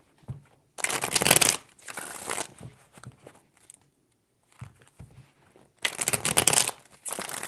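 Tarot cards being shuffled in two close, crisp bursts of riffling and rustling separated by lighter card handling and a brief pause, with no talk.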